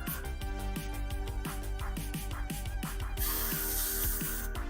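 Spray paint hisses onto a Warhammer Age of Sigmar Stormcast Eternals Prosecutor miniature in a steady burst that rises to a broad continuous hiss, over rhythmic background music.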